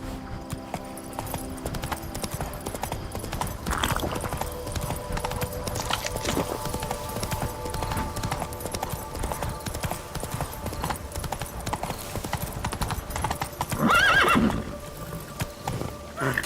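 Roach, a horse in The Witcher 3, gallops with steady clip-clop hoofbeats amid game ambience, with a brief whinny near the end and a rider's voice briefly heard.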